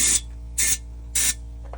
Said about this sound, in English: So as you can see, I'll spray in this hole and you'll see it go all the way out the back.